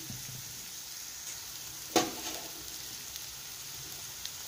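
A masala egg mixture frying in a pan produces a faint, steady sizzle, with one brief louder scrape or stir partway through.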